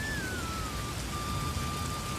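Steady rain falling at night as a sound effect in an animated Hindi story, a constant even hiss of rainfall with no pauses, joined by a faint thin tone in the background.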